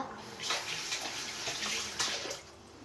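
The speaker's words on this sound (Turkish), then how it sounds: "Ellerimi yıkayacağım bir dakika." Tap water running while hands are washed at a sink, a soft continuous splashing stream with small fluctuations, close but fairly quiet.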